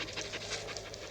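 A dog pants close by, in quick, rhythmic, breathy puffs that continue through the short moment with no voices.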